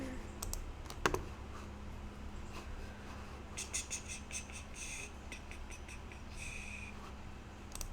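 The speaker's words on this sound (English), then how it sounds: "Literally typing like SpongeBob." Typing on a computer keyboard in a quiet room during a Blender modelling session, with irregular bursts of light clicks over a steady low hum.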